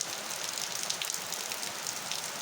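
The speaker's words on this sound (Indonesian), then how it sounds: "Mau panen padu malah hujan." Heavy rain pours down in a dense, steady hiss of countless drops striking surfaces, continuous and enveloping, with no voices.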